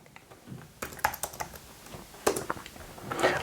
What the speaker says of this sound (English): we're going to type in Harrington Road